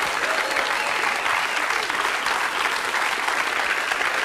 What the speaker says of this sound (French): Nash, on peut l'applaudir.